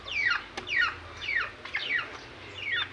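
Soft, repeated descending peeping calls, about five in three seconds, come from newborn turkey chicks beside their turkey hen on a turkey farm, close and fairly quiet over a faint low hum.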